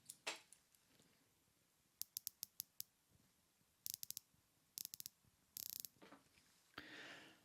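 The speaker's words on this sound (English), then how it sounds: "try and get that premium clicking sound. Rolex do it better than anyone." A Rolex Submariner rotating bezel is turned, giving crisp, close metallic clicks, some single and evenly spaced, others in quick ratcheting bursts, all quiet and alone.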